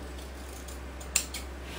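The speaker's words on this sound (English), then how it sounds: "So I'll just have to cut out with my fabric scissors" Fabric scissors snipping through cloth at a table, a single crisp cut standing out against quiet room hum.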